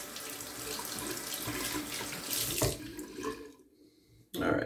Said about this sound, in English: Warm water rinse